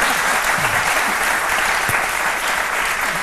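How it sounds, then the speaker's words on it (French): A studio audience at a French talk show applauds loudly and steadily, a dense wash of clapping filling the whole stretch without pause. "On l'applaudit très fort."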